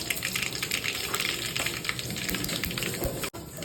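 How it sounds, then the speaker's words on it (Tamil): Mustard seeds hit hot oil in a pan while cooking brinjal kara kuzhambu, giving a loud, steady sizzling hiss and crackle that fills the whole stretch with a brief dip near the end. "எண்ணெய் காய்ஞ்சிச்சு, கடுகு போட்டுக்கலாமா."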